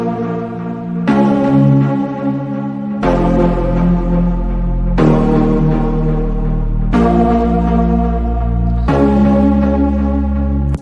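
In a deep house breakdown, a sustained synth chord pattern repeats in two-second blocks, and a deep sub bass layer joins under it partway through, thickening the low end as it carries on steadily with no voices.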